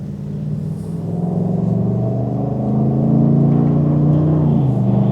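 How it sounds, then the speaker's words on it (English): A pickup truck, used for towing but running without a trailer, drives with a steady, loud engine rumble and whir that swells slightly as it accelerates, close and continuous with no talk. "it's so much different driving this truck without a trailer behind it"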